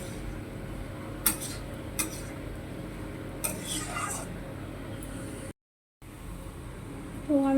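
Fried potatoes and pointed gourd are mixed in a cooking pan, giving a few sparse, faint metallic clinks and scrapes of a spoon against the pan while a voice talks quietly.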